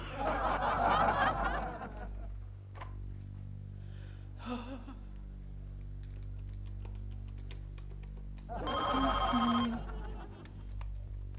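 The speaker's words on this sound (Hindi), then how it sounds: "लेकिन मरने से पहले प्रेमा जी को फोन कर लेता हूं।" A telephone rings during a call in a Hindi TV sitcom scene, its electronic ring tones sounding in short bursts over a steady low hum, with brief laughter-like sounds nearby.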